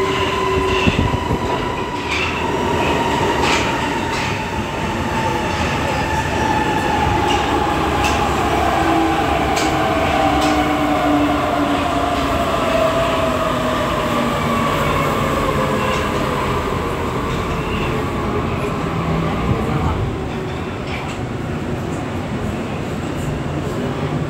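Budapest M3 metro train running between stations in a tunnel, a loud continuous rumble with rising and falling motor whine, rail clatter and occasional wheel squeal throughout.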